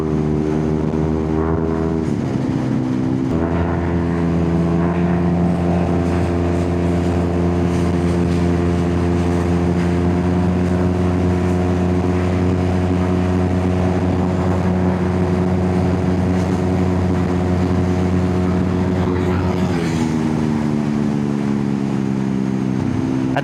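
Yamaha NMAX V2 220cc scooter engine droning steadily under riding load at high speed, a dense continuous hum with wind roar and a brief dip in pitch near the start and again near the end; no talking.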